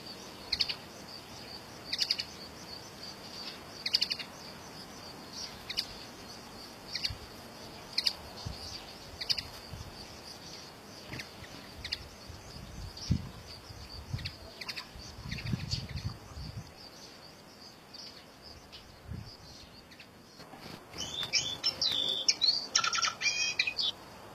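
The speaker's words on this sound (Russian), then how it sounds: "Возвращаются коноплянки вместе, но первым ко гнезду, предварительно подав сигнал, подлетает самец." Common linnets call near their nest, with short high chirps and tweets repeating at a steady pace over faint background noise, followed by a denser burst of twittering near the end.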